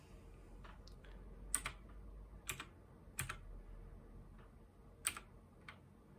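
Typing on a computer keyboard: sparse, irregular key clicks and a few sharper taps, close and fairly quiet over a low room hum, with no voices.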